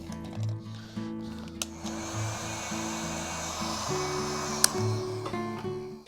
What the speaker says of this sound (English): You don't really need to use a heat gun. If you don't have it, you can use the hair dryer.